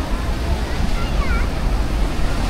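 Sea waves at high tide on Anjuna Beach, Goa, roll in as a steady, loud surf roar with wind buffeting the microphone, continuous throughout with no clear breaks.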